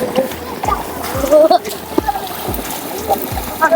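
People bathing and splashing in the Narmada River, repeated sloshes and splatters of water mixed with nearby voices and children calling out.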